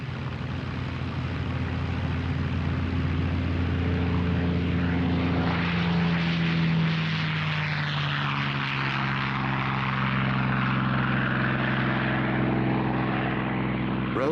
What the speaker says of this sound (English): This restored Spitfire carries the JEJ marking, immortalized by the great British ace, John